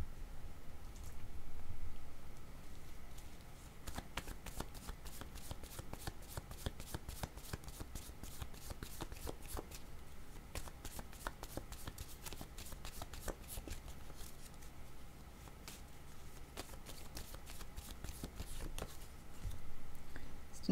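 A deck of cards is shuffled and drawn from by hand, with quick riffling flutters and soft slides repeating for a long stretch, close and fairly quiet, with no talking.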